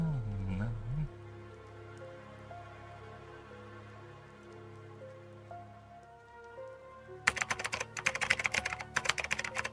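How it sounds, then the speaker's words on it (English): Computer keyboard typing comes in late as a quick burst of clicky keystrokes, following a long stretch of sustained synth-like music tones. "No, that's typing, that's keyboard"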